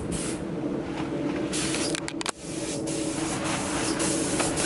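Spray gun painting a car fender during body prep work, a loud continuous close hiss of atomized paint with short bursts and a brief pause midway, no voices.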